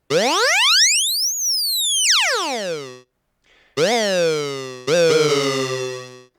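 Bright ElectraX synthesizer tones sweep up and down in pitch, each note fading out slowly with a long release tail and no reverb; three separate sustained notes, loud and alone.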